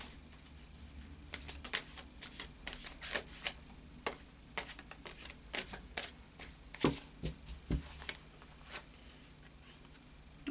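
Tarot cards are shuffled by hand, a close run of soft riffling flutters and papery taps in irregular bursts with short pauses between them.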